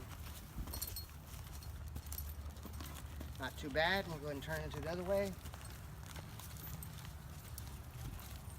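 Hooves of a ridden horse being trained to neck rein clop softly on the ground under a man's close, calm talking, a low, faint and uneven background of steps.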